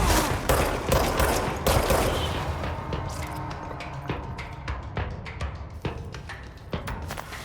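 Rapid bursts of rocket and gunfire from rocket troopers in the video game Control, a dense, loud barrage of overlapping blasts and cracks that thins into scattered sharper shots toward the end.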